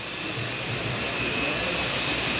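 An airbrush sprays IGL Aegis clear graphene anti-corrosion coating with a loud, steady hiss of rushing air and a faint whine, continuous and close.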